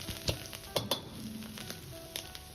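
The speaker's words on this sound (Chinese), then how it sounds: "再倒入挤干水分的酸菜丝翻炒" Squeezed pickled cabbage shreds are stir-fried in a wok, giving a low sizzle punctuated by several sharp spatula clanks and scrapes against the metal.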